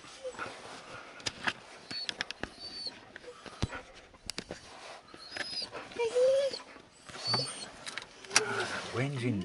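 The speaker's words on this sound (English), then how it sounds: "Whinging dog." A dog whines and whimpers in short, uneven bursts beside a car at Biggar Bank on Walney Island, Barrow-in-Furness, with a person talking and bits of vehicle noise mixed in.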